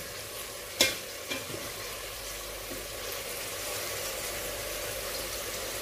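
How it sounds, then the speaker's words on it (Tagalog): Chicken for pineapple chicken in coconut milk being sautéed in a pan, a soft continuous sizzle with one sharp utensil knock and a lighter scrape early on, fairly quiet and close. "Ginigisa po ng maayos yung ating chicken"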